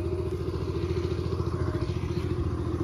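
A tractor engine runs steadily nearby in a farm field, a low, even, pulsing chug with no voices.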